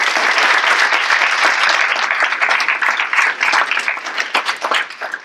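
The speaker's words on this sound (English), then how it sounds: "A round of applause." An audience at the close of a Cardinal Health ACHE healthcare blockchain panel in August 2018 breaks into loud, sustained clapping that gradually thins and fades.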